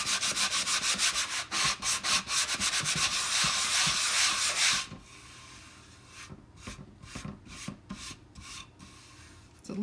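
Hand sanding of a wooden drawer piece, a loud, steady run of rhythmic abrasive rubbing strokes that suddenly drops to quieter, sparser scrapes partway through.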